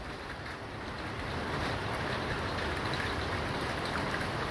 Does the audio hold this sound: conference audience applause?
no